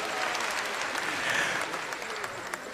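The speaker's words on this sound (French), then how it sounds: "Applaudissez pour monsieur le gouverneur" Audience applauding a governor at a public event, a dense steady clapping from a crowd that holds for the whole stretch with little variation and no one speaking over it.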